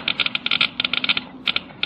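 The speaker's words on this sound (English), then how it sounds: "Hear that rapid clicking?" Geiger counter detecting metal particles worn from an irradiated engine piston ring, giving rapid, sharp clicks in quick irregular bursts with short pauses between them, close and clear.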